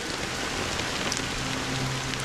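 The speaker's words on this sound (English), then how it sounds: "Why did this rain choose me?" Steady, close rain falls in the Penacony story of the video game Honkai: Star Rail, a dense even patter on surfaces with no voices over it.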